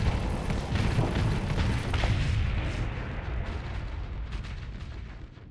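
Bone cannons firing on enemy ships in the space combat game Starsector, a dense, continuous barrage of booming shots and impacts that slowly thins and fades toward the end, no talk.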